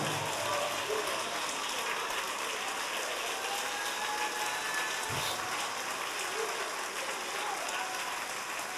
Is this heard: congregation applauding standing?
yes